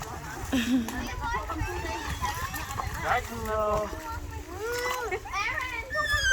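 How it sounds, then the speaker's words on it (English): Splashes of objects hitting water under a child's chatter and other voices, with a stream of water in the background. "This guy only want to throw rocks in the water."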